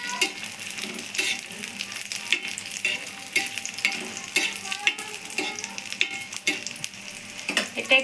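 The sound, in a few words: moglai frying slowly in hot oil on low flame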